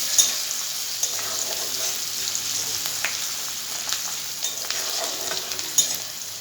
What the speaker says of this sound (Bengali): হালকা নাড়াচাড়া করে এর মধ্যে আমি সিদ্ধ করে রাখা কচু শাকটা দিয়ে দেবো